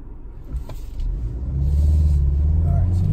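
A 2019 BMW 330i in sport mode accelerating from inside the cabin, a low engine rumble building steadily and growing louder over a few seconds, while a voice speaks briefly over it.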